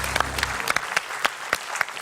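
Studio audience applause on an Indonesian comedy talk show: a loose spatter of claps with distinct individual hand strikes, moderately loud and fairly steady over a couple of seconds.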